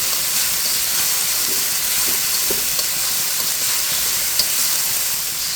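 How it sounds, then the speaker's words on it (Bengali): Onion, ginger and garlic paste with mixed spices being stirred and fried in a pan, giving a steady, dense sizzle throughout with faint scraping stirs underneath, close and continuous. "সব মশলা একসাথে দিয়ে এখন একটু নেড়ে চেড়ে কষিয়ে নিচ্ছি"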